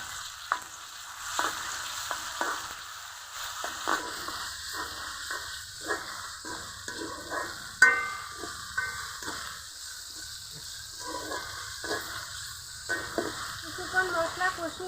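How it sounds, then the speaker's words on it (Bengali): Ground garlic, ginger, cumin, cinnamon, cardamom and clove pastes sizzle in hot oil in a pan while being stirred, with soft scraping strokes and bubbling hiss, fairly quiet and close. "সবগুলো মশলা প্রথমে একসাথে কষিয়ে নিব।"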